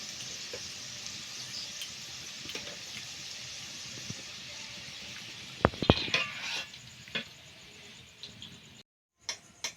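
Finely shredded potatoes for jhuri alu bhaja fry in hot oil with a soft, continuous sizzle, broken by a few sharp clinks of a utensil against the pan before a sudden short silence.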